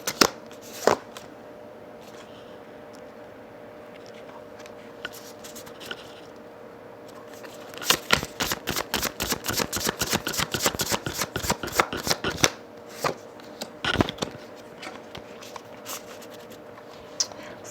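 A deck of Sacred Creators Oracle cards is shuffled by hand, with a few scattered soft taps and slides, then a long burst of rapid, crisp riffling up close before it settles back to quiet handling.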